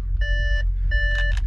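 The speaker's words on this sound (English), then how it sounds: "That damn buzzer." Warning buzzer of an Audi S7 4.0T sounding in two steady electronic beeps, each about half a second, close and clear over a low engine hum.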